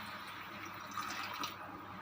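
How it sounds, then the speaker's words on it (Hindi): Water pours steadily into chicken cooking in a pan, a faint continuous trickle with a slight splash midway. "½ कप पानी डालना है"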